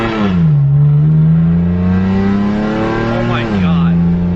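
BMW M4 F82 engine with an Armytrix valvetronic exhaust revving hard and close, a loud sustained roar that climbs, dips briefly near the end and recovers, with a voice talking over it.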